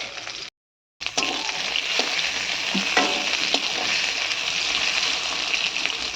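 Tomatoes fry in a pan with a steady, close sizzle after a brief silent gap, punctuated by occasional stirring clicks; no one speaks.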